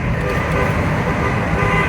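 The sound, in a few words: car horn honking in a tunnel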